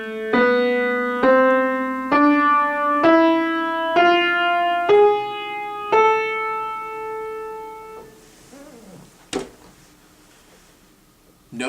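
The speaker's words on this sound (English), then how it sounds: "I have a harmonic minor scale that sounds like this" A harmonic minor scale played note by note on a single pitched instrument, seven clear ascending tones each held about a second, ending with a held top note and fading with a few faint knocks afterward.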